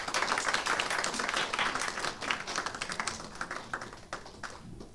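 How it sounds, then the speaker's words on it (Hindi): An audience at a Krishna Janmashtami celebration applauds to welcome an ambassador, with dense, fairly close clapping across the whole stretch that thins out near the end. "तालियों से स्वागत करता हूं।"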